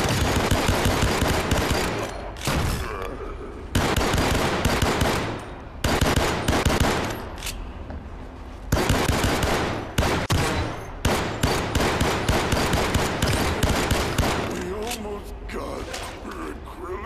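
Rapid automatic gunfire in the VR shooter Gambit, loud close bursts of machine-gun fire repeating in several long volleys separated by brief pauses, with mechanical clacks between them and a voice briefly underneath.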